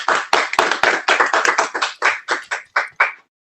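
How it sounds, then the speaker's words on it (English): Hand clapping for valedictorians at an online school board meeting, picked up through a single open microphone as roughly fifteen crisp, close claps in a steady rhythm that slows toward the end and then stops. "let's give our valedictorians a thunderous round of applause"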